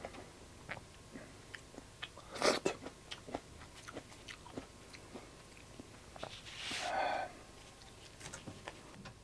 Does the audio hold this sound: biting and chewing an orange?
yes